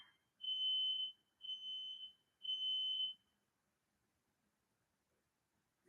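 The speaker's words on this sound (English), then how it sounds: "Now my smoke alarms are going off." Household smoke alarms going off in a house with no cooking under way: three shrill electronic beeps in a steady pattern, each about half a second to a second long, then silence.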